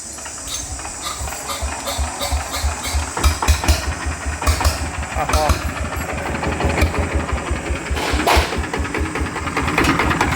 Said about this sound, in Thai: แต่เสียงเครื่องค่อนข้างกระดังหน่อยนะครับ